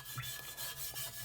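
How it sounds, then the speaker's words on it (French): Wire brush scrubbing a restored Dakar starter pot after electrolysis, a short burst of rapid, rough rasping strokes up close, with no talk. "Regardez, on va prendre un petit coup de brosse métallique."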